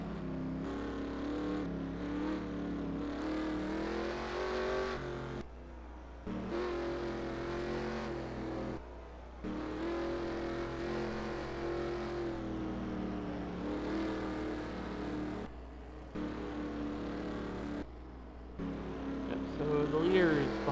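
NASCAR Racing 2003 race cars circle a street circuit in Seattle behind a Chevrolet Camaro pace car under caution, their engines a steady, loud droning whine that rises and falls with short breaks, with talk faintly underneath.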